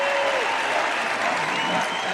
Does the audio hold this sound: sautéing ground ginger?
no